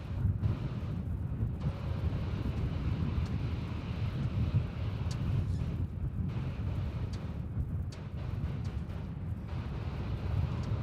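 A jet airliner on runway 34 at Melbourne Airport, heard as a steady broad roar of engine noise with wind buffeting, continuous and fairly loud throughout, without speech.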